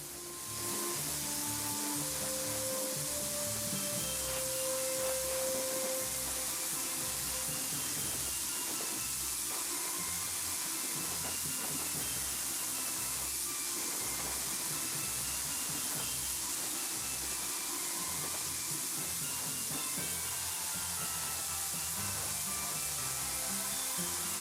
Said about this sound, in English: pop those drawers back in and spray down the front